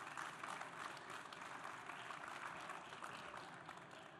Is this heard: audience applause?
yes